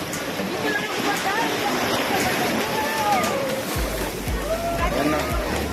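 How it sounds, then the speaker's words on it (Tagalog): Strong sea waves roll and wash steadily onto a busy beach at a Pangasinan resort, a continuous loud broadband surf with rising swells throughout, with faint voices and a low rumble in the background. "Ang lakas ng alon."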